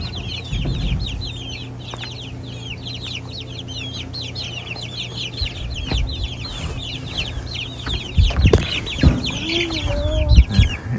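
Young chickens cluck and chirp steadily in a grow-out pen, close and continuous, with a few thumps and handling noises near the end.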